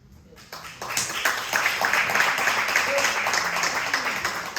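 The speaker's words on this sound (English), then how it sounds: "Y'all have really lots of time to clap." An audience at a Sacramento District 2 council candidate forum breaks into sustained applause that starts abruptly after a brief quiet, then swells into dense, steady clapping at moderate loudness.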